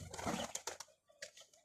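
Pigeons coo softly at a distance, a few low burbling calls following a brief rustle, faint and alone in a quiet setting.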